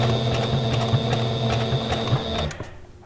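A sewing machine stitching a fancy decorative stitch through fabric for a gift basket, a steady mechanical whirr with rapid rhythmic needle clicks that stops abruptly near the end.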